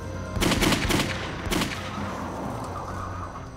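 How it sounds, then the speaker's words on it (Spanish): Two rapid bursts of gunfire crackle at a distance, each a short volley of shots, followed by a low rumbling background. "Otra noche oyó disparos."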